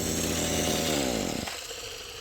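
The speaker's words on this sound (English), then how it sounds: "So you hear how loud your Weedeater is running." A loud, buzzing RedMax BCS260 string trimmer runs close by at high revs, then winds down and fades over a couple of seconds.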